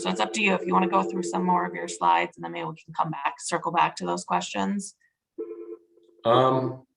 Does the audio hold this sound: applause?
no